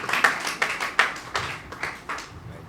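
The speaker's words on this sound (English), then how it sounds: "a round of applause as Joseph joins us" Scattered audience clapping at a spelling competition launch event at UPSA in Ghana, a handful of distinct, fairly close hand claps at an uneven rhythm, each sharp and separate rather than a dense roar, with no talking.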